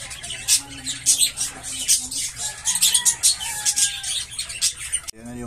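A pet parakeet, just treated with petroleum jelly for scaly mite, gives a string of quick, close chirps and twitters, with a brief rustle near the end.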